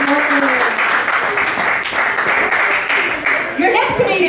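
A comedy night crowd at McCormack's Irish pub applauds comedian Chris Martin with sustained clapping and cheering, while a host's voice talks over it.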